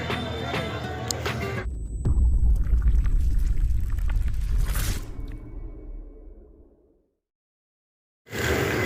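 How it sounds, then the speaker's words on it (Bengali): A passenger launch boat pulls away from Babu Ghat in Kolkata, with a loud, steady low rumble of engine and churning water that gradually fades away. Brief bursts of noise come before and after the rumble. "দেখতে পাচ্ছেন এই যে লঞ্চ ছেড়ে দিয়েছে"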